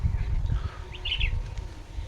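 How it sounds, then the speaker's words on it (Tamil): Birds calling at a wetland where common doves and bulbuls gather, a brief cluster of high chirps in the middle over low rumbling outdoor noise. "காமன் டவ் புல்புல் மற்றும் ஏகப்பட்ட பறவைகள் இப்போது நம்ம வந்த இடத்துல பார்க்க முடியுது"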